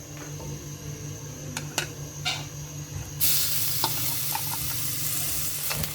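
Ginger garlic paste dropped into about half a cup of hot oil for a mutton liver recipe, with a loud burst of sizzling that sets in partway and keeps frying steadily, with small clicks and stirring taps before and after.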